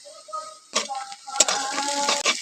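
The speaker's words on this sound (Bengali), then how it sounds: "পেঁয়াজটা কিছুটা লাল করে ভেজে নিয়েছি" Onions and chopped green chillies frying in a pan with a pinch of salt, a sharp burst of sizzling that jumps up after a quiet start, with a clatter of a utensil and continued crackling, close by, no speech.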